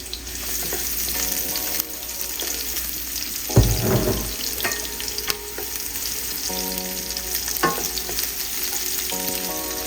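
Diced onions frying in vegetable oil, a steady close sizzle broken by utensil clatter and stirring scrapes, with brief tonal clinks from the pan.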